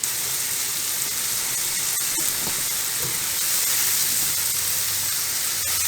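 Mushrooms sizzling in a pan as they are stirred: a loud, steady frying hiss close up, with occasional soft scraping and clinks from stirring, and no voices.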